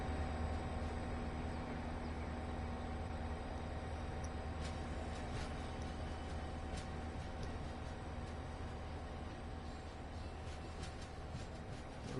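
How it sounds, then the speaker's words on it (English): A train pulls away on the Boston Sprinter route in Train Sim World 2, with a steady engine drone and rolling rail noise. Faint clicks and clunks come through now and then. The sound stays at an even moderate level for the whole stretch, and no one speaks. "get a nice little cinematic view of this funky looking train"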